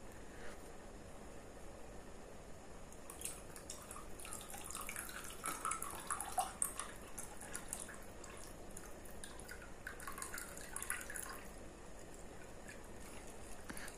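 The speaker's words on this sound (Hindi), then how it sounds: "तो पानी भी यही डाल देते हैं," Clean water is poured into a glass of Royal Challenge whisky over ice, giving soft, faint dripping and trickling splashes that run steadily for several seconds with no voices.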